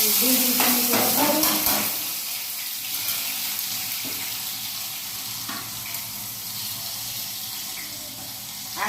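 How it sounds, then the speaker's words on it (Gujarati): Mustard seeds and asafoetida crackle and sizzle in hot oil for a tempering, a loud steady hiss with a few pops at the start, continuing close and alone. "આપણે આ ઓરો વઘાર નાખીએ રાય હિંગ વઘાર્યા"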